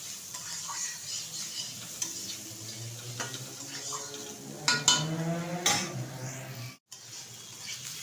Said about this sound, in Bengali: পেঁয়াজটাও বেশ কিছুক্ষণ একটু নেড়ে চেড়ে নেব।